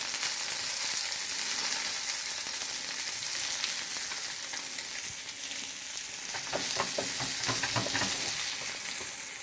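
Meatballs sizzle in an old non-stick pan: a dense, continuous frying hiss close by, with a run of light clicks and taps in the later seconds as they are turned.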